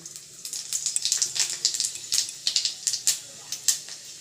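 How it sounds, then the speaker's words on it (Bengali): Panch phoron spices crackle and sizzle in hot oil in a kadai, a steady stream of sharp close pops and spits with no talking. "তেলটা ভালোভাবে গরম হয়ে গেছে এবার আমি কড়াইতে দিয়ে দেবো পাঁচ ফোড়ন"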